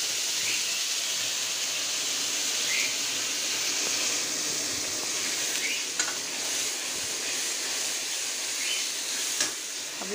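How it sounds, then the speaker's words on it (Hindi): Ground ginger and onion spice paste for egg curry frying in hot oil, a steady loud sizzle with hissing steam and occasional stirring scrapes; no one speaks. "अब हम इसको डालेंगे तेल में सबसे पहले।"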